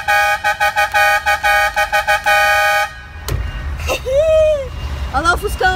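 A truck's air horn on the road to a São Cristóvão procession blares in a rapid series of loud repeated toots, then stops; engine rumble and a voice follow, with another horn sounding briefly near the end.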